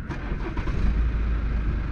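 A BMW 3 Series estate with the M Package idles steadily with its bonnet open, a low continuous engine rumble held close and at even loudness, with no talk over it.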